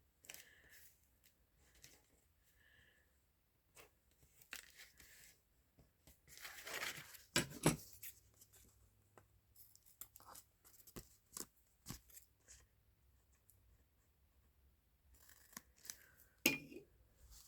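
Scissors snipping paper for an envelope journal, a series of quiet, close crisp cuts and rustles spread irregularly through a calm room, with a louder paper crinkle partway through.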